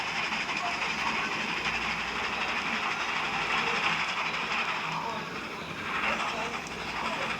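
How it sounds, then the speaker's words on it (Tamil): A moving train rumbles with steady, loud rail clatter and hiss, heard from on board, continuous throughout. "ஸோ நம்ம ட்ரெயின் என்னாச்சுன்னு தெரியல, பறக்குது."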